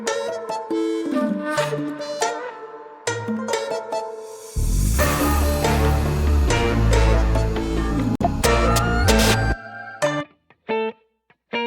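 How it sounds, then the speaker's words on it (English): A clean guitar riff, the source that inspired a K-pop track, plays alone, then heavy processed chords with deep bass swell in for several seconds before cutting back to sparse picked notes. "this guitar is actually the main source of inspiration"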